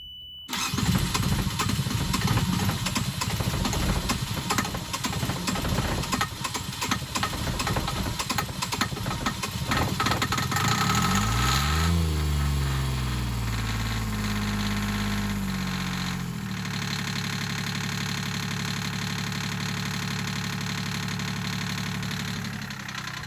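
Sailboat engine cranks and catches, then runs steadily at a loud, close idle, its pitch dropping and settling into an even drone that continues throughout.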